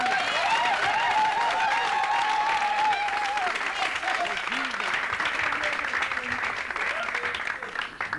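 An audience at a religious variety broadcast in Kinshasa breaks into sustained applause, loud and continuous, with voices and a sung line audible over the clapping.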